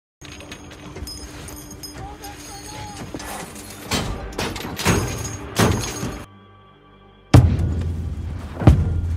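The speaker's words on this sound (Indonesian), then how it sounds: "Dan terdengarlah ledakan yang menggetarkan seluruh dinding Fury" A grenade blast inside a Sherman tank in the war film Fury, with sharp loud bangs and crashing impacts, a sudden drop to a low hum, then a final heavy boom and rumble.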